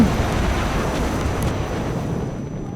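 A deep, rumbling blast with a long, dense roar that slowly fades, heavy low-end boom of a grenade explosion in Battlefield V.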